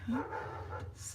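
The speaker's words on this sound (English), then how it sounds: "I apologize if you can hear my dog outside." A dog barks outside, just beyond a window in a residential neighborhood. The bark is brief, muffled and distant, and a person talks over it.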